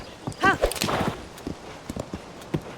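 Horse hooves clip-clopping in Zelda: Tears of the Kingdom, a short burst of close, uneven hoof knocks followed by a few sparser, softer steps.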